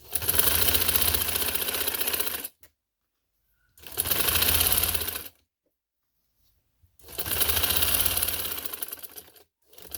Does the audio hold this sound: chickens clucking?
no